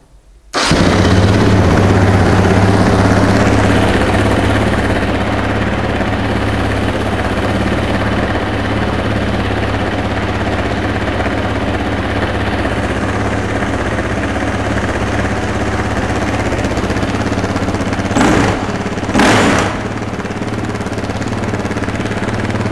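A cold Husqvarna SM510 motorcycle engine starts up and settles into a loud, steady idle, rumbling continuously with a couple of brief throttle blips near the end.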